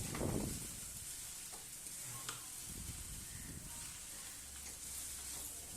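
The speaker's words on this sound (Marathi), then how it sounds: "परतून घ्यायचं सगळं कोबी आणि शिमला मिरची तर मी परतून घेत आहे" Cabbage and bell pepper stir-fried for noodles, a soft steady sizzle with scraping and stirring of the pan, faint and close throughout.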